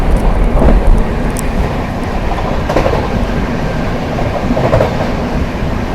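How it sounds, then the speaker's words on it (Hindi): Prayagraj Express runs at high speed alongside the Kalindi Express while overtaking it, making a loud continuous rail roar with rhythmic clickety-clack wheel beats and rushing wind, heard close and steady. "पैरेलली ओवरटेक मारा है भाई कालिंदी एक्सप्रेस को"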